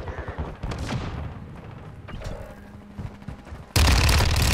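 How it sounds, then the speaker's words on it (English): Gunfire in Call of Duty: Modern Warfare II, a 6v6 multiplayer match, rattles in dense bursts of shots and impacts throughout, ending in a loud, sustained volley. "Where do I keep getting shot from a long range?"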